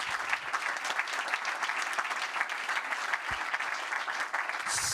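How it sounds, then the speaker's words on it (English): Symposium audience clapping after a talk, a steady, even round of applause at moderate distance that lasts throughout. "So another round of applause for Alena Boix."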